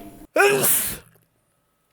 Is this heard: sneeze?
yes